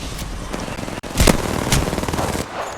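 Rapid automatic gunfire sprays continuously and loudly in a firefight in the video game Apex Legends, with dense bursts of shots filling the whole stretch.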